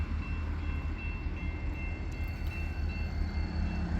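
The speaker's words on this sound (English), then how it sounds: "And I'm stopped by this train right now, so I'm kind of stuck" A train rolls through a town's downtown as a steady, loud low rumble of rail cars passing close by, with faint high squeals over the continuous din.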